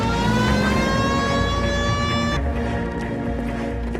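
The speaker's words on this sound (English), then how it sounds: "Hit the siren." Police car siren in the video game L.A. Noire, a loud rising wail over car engine noise that cuts off abruptly partway through, leaving engine and road sound.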